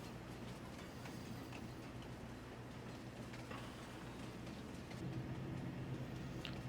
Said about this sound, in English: Alright, everything is loaded up on the train. We are ready to haul out.